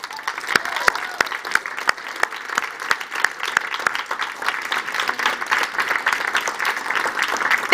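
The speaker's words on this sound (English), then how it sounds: "A big applause for all of them." Audience applause at a youth dialogue event on climate adaptation, a steady mass of clapping from a seated crowd with a few sharper nearby claps standing out, sustained and fairly loud throughout.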